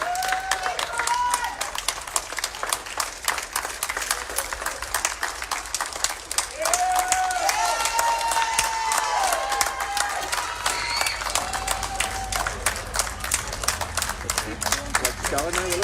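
Applause across the UK for NHS workers, a dense continuous patter of clapping with scattered whistles and cheers, heard outdoors over voices.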